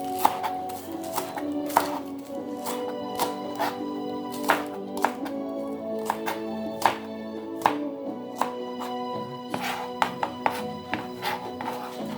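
Vegetables chopped for a vegan stew, a knife striking a cutting board in sharp, close, irregular thuds, sometimes in quick pairs, over a soft background hum.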